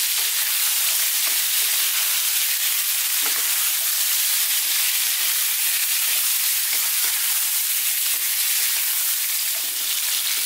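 Pork fries and is stirred in a Chinese wok for sweet and sour pork, with a loud, dense, continuous sizzle and faint scraping stirs throughout, close and without talk.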